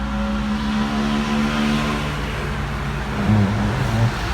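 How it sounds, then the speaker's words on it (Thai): A 2015 Toyota Vigo single-cab pickup truck idles steadily at close range with a low, even engine drone and a slight rise in revs near the end, no voices over it. "มาฟังเสียงเครื่องได้เลย"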